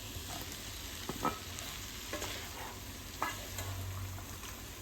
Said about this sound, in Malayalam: കോളിഫ്ലവറും ഉരുളക്കിഴങ്ങും ഫ്രൈ ആക്കിയിട്ടിടാം.